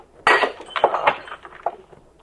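A drinking glass knocked from a hand shatters in a radio drama, one sharp crash followed by a few tinkling fragments and smaller clinks fading out.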